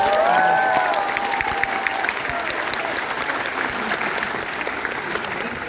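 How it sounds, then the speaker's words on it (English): A round of applause from an audience at an interactive dialogue with a Harvard professor, a dense, sustained wash of clapping that tapers slightly, with a brief cheer and a few voices near the start. "Can everyone just give a round of applause?"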